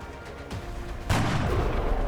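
A loud headshot gunfire blast erupts in the video game XCOM Enemy Within, a single sharp boom with a rolling echo tail after a brief quiet lead-in.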